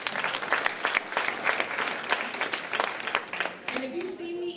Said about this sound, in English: Now give yourselves a round of applause because you're going to do that.